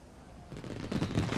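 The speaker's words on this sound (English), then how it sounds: "That night, Thomas and James watched the fireworks together." Fireworks burst at night in a rapid crackling volley that grows louder and denser over a moment, heard at moderate distance without speech.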